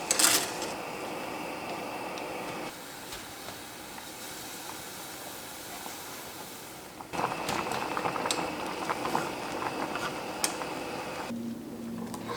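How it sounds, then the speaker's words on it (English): Water comes to a boil in a large fry pan and a separate pot for spaghetti noodles and tteokbokki pasta, giving a steady, close bubbling hiss that grows louder and busier partway through, with no talk. "boiling 750 ml of water in a large fry pan, and we'll also boil water in a separate pot"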